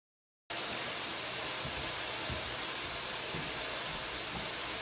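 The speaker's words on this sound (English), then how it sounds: "my mushrooms are just sizzling away and they're starting to release some of their liquid" Steady, dense sizzling and crackling from mushrooms frying in a hot pan and releasing liquid, close and constant with no voices.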